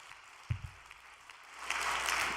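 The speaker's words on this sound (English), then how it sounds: "Why don't we give a big round of applause to them?" Scattered clapping swells into steady applause from a church congregation gathered for prayer and devotion, starting as a few near claps and rising to a full, dense round toward the end.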